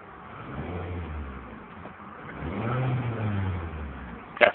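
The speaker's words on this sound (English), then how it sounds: "Car does rev real nice." The engine of a 2007 Toyota Camry LE with about 57,000 miles is revved: a low mid-pitched hum rises, falls back, then climbs again in a second rev, ending in a brief sharp click, with no one talking.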